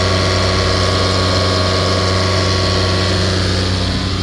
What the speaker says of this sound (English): You can see the engine fans now are working.